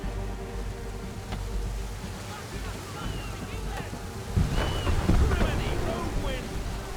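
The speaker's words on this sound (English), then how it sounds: "Heavy gusts, Captain!" Strong wind gusts and rolling water at sea aboard a colonial sailing ship in Assassin's Creed III, a steady roar with a surge of louder gusting and sloshing toward the end, voices faintly present under it.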